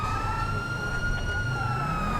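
A police car siren in GTA 5 running the LSPDFR police mod wails loudly and continuously, a steady tone over low engine rumble.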